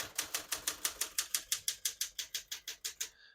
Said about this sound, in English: I'm going to keep that on single for now and finish typing.